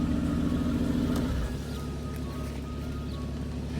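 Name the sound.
Lamborghini Aventador V12 engine cold start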